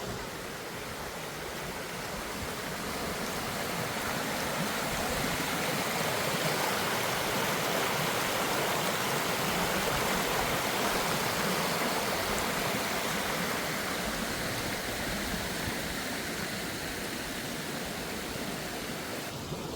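Waterfall near Loch Lomond, a continuous loud rushing roar of falling water, steady and close, with no voices.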